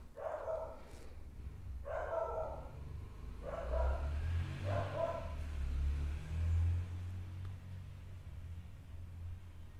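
Dog barking in about four short bursts early on, fairly close, with a steady low engine-like rumble underneath and no talk.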